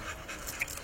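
A dog pants nearby in quick, breathy rhythmic puffs, faint and steady with no voices over it.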